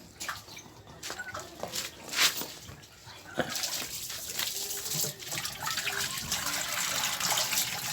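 Water is poured and splashed into a container holding native fish, with intermittent gushes and trickles that become a steadier flow near the end, fairly faint and close.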